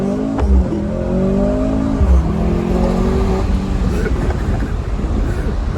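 A Mercedes-Benz C43 AMG with a four-cylinder engine accelerates hard from a standstill, its engine note climbing steadily in pitch as it pulls, heard from inside the car with voices talking over it.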